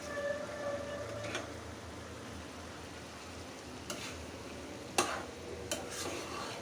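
Pulao rice cooking in a pot as it is stirred, a soft low simmer with a few scraping spoon strokes against the pot, faint and close.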